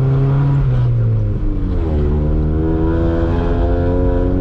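Honda Civic EF engine revving steadily while climbing a snowy hill in winter, a loud continuous drone that holds close and shifts pitch slightly as the throttle is held light.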